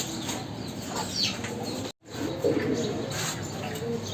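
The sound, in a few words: pigeons cooing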